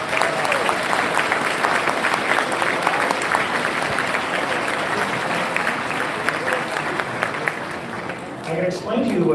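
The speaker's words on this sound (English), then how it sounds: "Please give her a round of applause." Long, loud audience applause at a Christmas nativity festival concert, dense and continuous for most of the span, fading near the end as a voice begins to speak.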